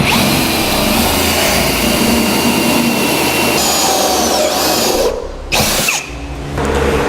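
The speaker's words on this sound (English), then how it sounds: "we're going to come back with a step drill bit, and we're going to enlarge all of them" A step drill bit bores out and enlarges holes to 9/16 in the steel frame of a 2015 Chevrolet truck. The steady, loud power-drill whine runs for about five seconds, breaks off briefly, then restarts.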